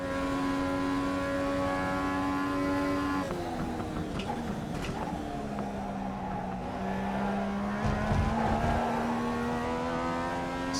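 Race car lapping a track, a steady engine tone that drops in pitch as it slows, heard from onboard and continuing throughout without speech.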